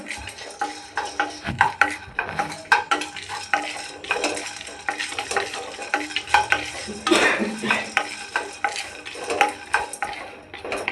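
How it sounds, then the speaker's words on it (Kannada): Chopped ivy gourd is roasted and stirred in a pan, with a metal spatula scraping and clanking irregularly against the pan over a soft sizzle. The close-up strokes come in uneven bursts without talk. "ನಾವಿದನ್ನು ಸ್ವಲ್ಪ ಕಲರು ಚೇಂಜ್ ಆಗೋವರೆಗೆ ಹುರ್ಕೋಬೇಕು. ಸ್ವಲ್ಪ ಫ್ರೈ ಆಗಬೇಕಿದು."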